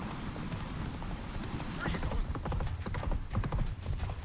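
Roach, Geralt's horse in the game The Witcher 3, galloping with rapid rhythmic hoofbeats that run steadily under a voice.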